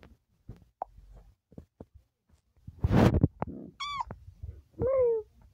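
A cat meows in Minecraft One Block, with a couple of rising, wavering cries near the end after a burst of blocky game noise and scattered small clicks, fairly close and clear.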